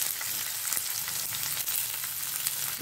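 Onions and green chillies frying in oil for cabbage palya, a steady close sizzle with faint stirring throughout, no voices.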